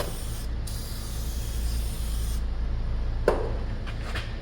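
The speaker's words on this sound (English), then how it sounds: "Put a little bit of fluid film on here to hopefully try to prevent the corrosion from continuing to form." Fluid Film anti-corrosion spray hisses steadily from an aerosol can onto brake parts of a 2019 Cadillac Escalade, a close continuous spray with brief pauses and a small clunk near the end.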